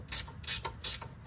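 A nut being run down on a car's front strut during installation, heard as three quick ratchet bursts, each a sharp clicking rattle, up close with no talking.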